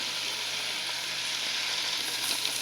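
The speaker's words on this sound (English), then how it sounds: "now that our sauce has come up to a boil" A sauce of apple juice and soy sauce comes to a boil in a pan for bourbon chicken, making a steady, fairly loud sizzling bubble with no voices.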